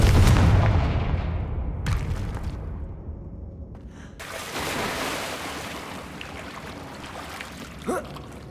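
A Confringo blasting spell explodes in Hogwarts Legacy, a loud deep boom opening the scene and rolling off into a long rumbling decay, followed by quieter ambient game sounds and a brief sharp burst near the end.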